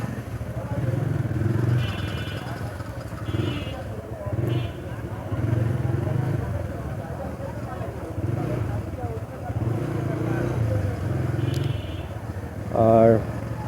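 A TVS Raider motorcycle rides along small city roads in Dhaka, its engine humming steadily underneath continuous talking, with a few brief horn toots near the end.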